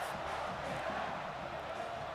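A Florida Gators home crowd in an EA college football video game, a steady, fairly faint roar of many voices with no distinct peaks.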